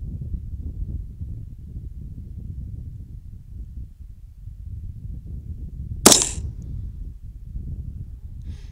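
A 6.5 Grendel rifle fires a single Wolf FMJ round at a long-range target, one sharp, loud crack about two-thirds through over a low outdoor breeze rumble.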